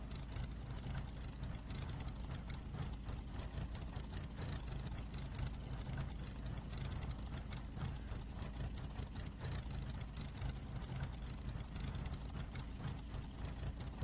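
An F4U Corsair's engine drones in a flight video game, a constant, dense, steady roar that holds at even loudness throughout with no voices over it.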